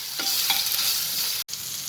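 Ginger, green chilli and garlic paste fries in hot oil over crackled cumin while being stirred, giving a steady close sizzle with scraping stir strokes and a brief break near the end.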